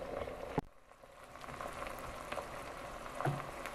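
Risotto bubbles gently in a pan as it is stirred, a soft, continuous simmering crackle with a sharp clink of the spoon near the start, quiet and without talk.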